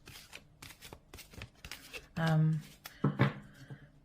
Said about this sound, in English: I have to shuffle it overhand this way, which is really awkward